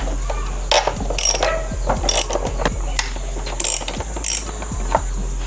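A ratchet fitted with a 10mm socket works the bolts on a Yamaha NMAX motor scooter, its pawl giving rapid clicking runs in several bursts, close and loud over a steady low hum.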